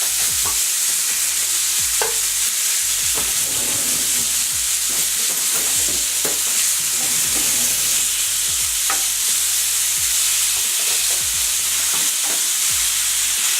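Venison burger cooking slowly in a pan: a continuous loud sizzle and crackle with frequent scraping and stirring knocks, close up and without speech.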